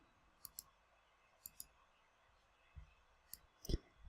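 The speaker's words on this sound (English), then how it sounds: "Okay, so you just click over here." Computer mouse clicks, a few sharp paired taps spaced over a few seconds, close but quiet, with a soft thump near the end and no talking.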